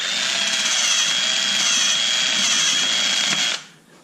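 A cordless drill driver spinning a valve lapper on a small-block Chevy cylinder head whirs at a steady high pitch for a few seconds, then cuts off abruptly.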